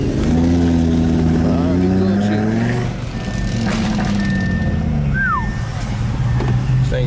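A 500 hp Audi RS3 accelerating hard at high speed, its loud engine tone climbing and then holding with heavy road and wind roar, while people talk inside the car.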